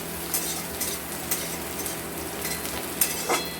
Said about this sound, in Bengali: পেঁয়াজটা একটু ব্রাউন ব্রাউন হয়ে যাবে। খুব একটা আমরা ভাজবো না, হালকাই ভাজবো